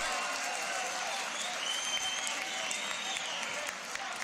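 Loud, sustained applause from a large crowd at a beatbox showcase battle semifinal, with cheering and whistles mixed in throughout.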